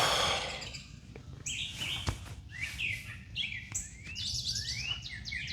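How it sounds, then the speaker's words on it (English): Many birds chirping outdoors, a busy overlapping chorus of bright tweets and rising calls close by, continuous with no talk. "there's a lot of birds chirping today."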